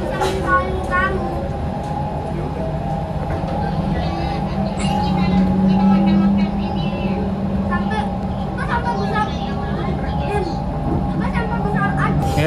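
A train rolls steadily along the rails with a constant low rumble and hum, while a voice talks over it throughout.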